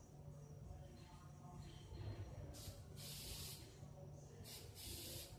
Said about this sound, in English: you may start the spray painting process